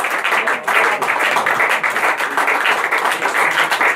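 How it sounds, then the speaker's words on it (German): Audience applause for a female artist after a performance, dense steady clapping from a crowd lasting the whole stretch, loud and close with no pauses. "großer Applaus"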